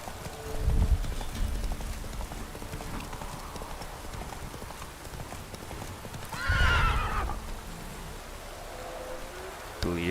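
Roach, a horse in The Witcher 3: Wild Hunt, gallops with a steady clip-clop of hooves, and two loud whinnies break out over the running beat.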